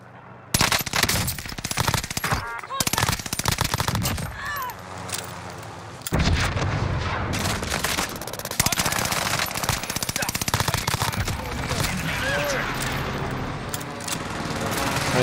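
Machine pistol fire in a first-person shooter game, heard as loud, rapid bursts that run almost without pause, with brief gaps between strings of shots and players talking over it.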